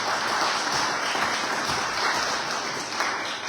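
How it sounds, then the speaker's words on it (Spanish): A church congregation applauds together, dense continuous clapping at a fairly close, even level that holds steady from start to finish. "Vamos a darles un aplauso."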